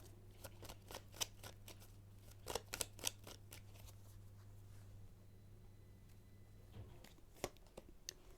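Tarot cards are shuffled and drawn in a quiet room, giving a series of soft, sharp flicks and snaps in irregular bursts over a faint steady hum.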